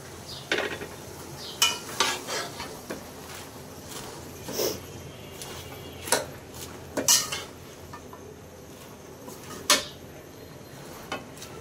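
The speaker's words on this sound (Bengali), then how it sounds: "শাকটা দিয়ে এটাকে একটু নাড়াচাড়া করে দেব" Malabar spinach being stirred into a pan with pangas fish head, giving scattered clinks and scrapes of a utensil against the pan at an irregular pace, with faint background noise and no talk.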